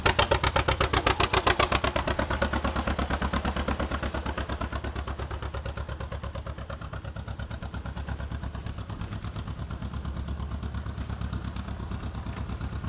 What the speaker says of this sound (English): this is a 1946 John Deere A